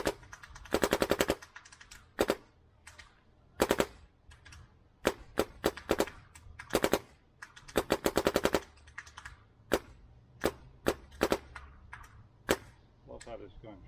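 A Dye Matrix DM9 paintball marker fires sharp, snappy pops close by, some single and some in rapid bursts of several shots, with short pauses between strings.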